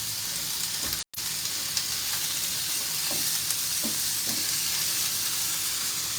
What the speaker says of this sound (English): As soon as the vegetables begin to sear, I will add the egg